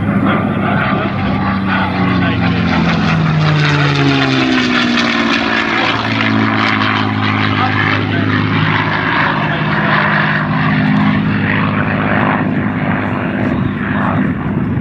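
A P-51 propeller airplane drones loudly and continuously overhead at an air show, its engine pitch rising and falling as it performs a hesitation precision roll and other aerobatic maneuvers.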